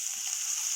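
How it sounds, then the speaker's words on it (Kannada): Mustard seeds sputter and crackle in hot oil in a pan for a tomato-based leafy greens stir-fry, a steady close hiss with small pops and no talking. "ಈಗ ಸಾಸಿವೆ ಸಿಡಿಯುತ್ತಿದೆ"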